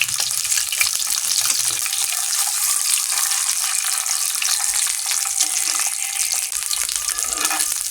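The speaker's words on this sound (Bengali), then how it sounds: "এরপরে আম্মু একটি কড়াই তেল গরম করে 4টা সেদ্ধ ডিম হালকা ফ্রাই" Four boiled eggs fry in hot oil in a wok, giving a loud, steady, continuous sizzle and crackle throughout with no pauses.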